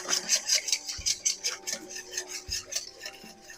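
Eggs and melted butter are whisked in a bowl, with quick, rhythmic metallic clinks and scrapes of the whisk against the bowl repeating steadily at close range and a few heavier knocks mixed in.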